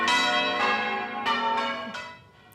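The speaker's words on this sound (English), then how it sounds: "The call has gone out for bell ringers across the UK, ready to ring in the new king at his coronation ceremony in May." Church bells rung by a team of change ringers in the UK, about five clear, resonant strikes in quick succession, each ringing on and overlapping the next, close and loud with no voices.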